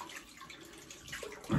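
A magnetic razor head rinsed under running tap water, a brief steady splashing flow with a louder gush at the end, no talk.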